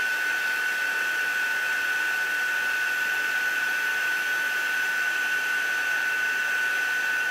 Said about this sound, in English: make sure to keep that heat gun moving